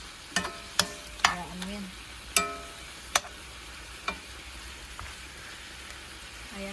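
Pork ribs for caldereta fry in a pan as a utensil stirs them, giving a steady sizzle under several sharp scraping clacks spread through the clip, close and fairly loud, with a brief spoken word.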